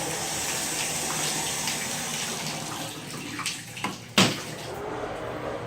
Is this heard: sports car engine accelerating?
no